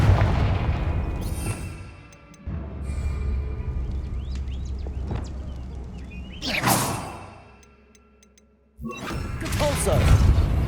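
In the video game Hogwarts Legacy, the Confringo spell sets off booming, whooshing blasts. A few heavy explosions land amid game ambience, with a voice talking over them.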